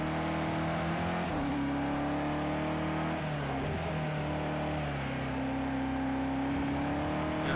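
Race car engine in Project CARS 2 holds a steady, loud drone throughout, pitch rising and falling with throttle as the car flows through corners on worn, hot tyres; no talk over it.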